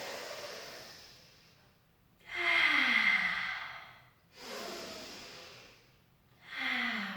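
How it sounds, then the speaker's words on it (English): Deep, audible breaths during a Pilates workout, close to the listener: long airy inhales and exhales that rise and fall in slow swells, three or four in a row, with no talking. "Take a breath in."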